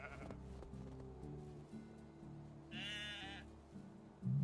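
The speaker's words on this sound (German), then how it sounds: "Schafe." Sheep bleating in the video game Medieval Dynasty, one wavering bleat standing out midway over a low background of game music and ambience, moderately close.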